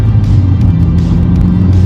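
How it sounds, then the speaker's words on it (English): A small Honda car with a newly fitted engine pulls hard, its loud, steady engine drone and low exhaust rumble filling the whole stretch from close inside the cabin. "Alright, this car totally rips. I have to show it off with the new motor."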